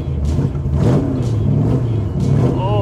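Tesla-powered Shelby Cobra EV prototype starting up with a steady, burbly low hum that swells slightly, close and fairly loud, with no talking over it.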